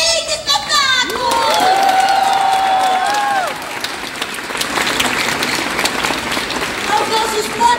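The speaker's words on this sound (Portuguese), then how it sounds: "gostaria de pedir uma salva de palmas a Brasil Prev" Theatre audience applause at the final performance of a Charlie and the Chocolate Factory stage show, broad clapping and crowd noise with children's voices, shouts and whistling-like cries over the top, loud and sustained.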